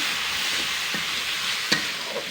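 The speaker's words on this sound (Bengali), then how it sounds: "দিয়ে নাড়াচাড়া করে নিতে হবে যাতে মশলাটা না পুড়ে যায়।" Spice paste with salt and turmeric fries for koi fish curry while being stirred, a steady loud sizzle with a couple of brief scraping knocks of the spoon, with no talking.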